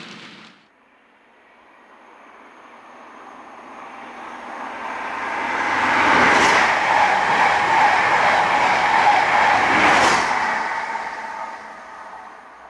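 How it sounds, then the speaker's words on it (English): Model trains on a model railway layout rumble past, swelling from quiet to a loud close roar and fading again, with rhythmic clatter peaking twice. "the trains are running"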